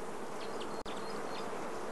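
Honey bees buzz steadily around an open Langstroth hive being examined for drone comb, a close, continuous hum with a brief dropout partway through.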